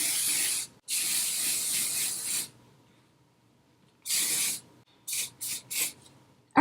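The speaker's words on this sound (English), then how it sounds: "Just been using my Garnier volume hairspray." Garnier volume hairspray sprayed in a long hissing burst of about two seconds, then after a pause one more burst and a few short quick puffs, close and fairly loud.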